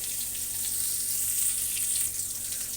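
Koi fish fries in oil with salt and turmeric, giving a continuous bright, even sizzle up close with no distinct stirring strokes or voices.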